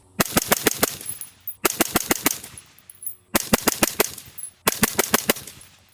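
Suppressed 6mm rifle fires in four quick strings of about five shots each, crisp close cracks with short ringing tails and brief pauses between groups, shot through a 16-inch barrel with a lightweight suppressor.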